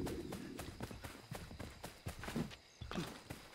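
A horse's hooves clip-clop at a steady walking pace in the Assassin's Creed III video game, near and fairly quiet, with the gait slowing toward the end.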